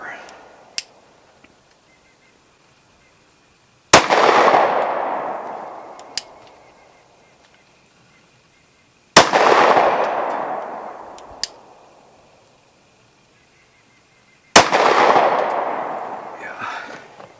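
Gunfire from Glock subcompact pistols, the 43X, 43 and 26, at a shooting range: three loud, sharp reports spaced several seconds apart, each ringing off in a long echoing decay, with a few fainter clicks between.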